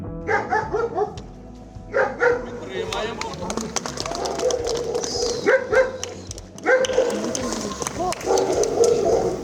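Service dogs bark in short bursts at close range during a training session, mixed with excited yips while people talk and call nearby.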